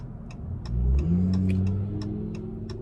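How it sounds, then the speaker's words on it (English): A bus rolling past on a snowy road at night, a steady engine rumble that swells to a loud, close peak and then slowly fades as it passes, with no talk. "this bus is rolling"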